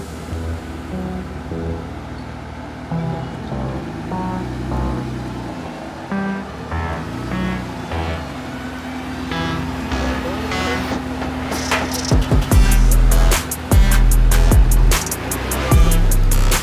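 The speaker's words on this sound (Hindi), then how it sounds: "ये ट्रेल में से निकलेगी गाड़ी।" A lifted Toyota Hilux rolls along a trail, its engine a steady low rumble throughout, with heavier thumps and rattling bursts toward the end as it crosses rough ground.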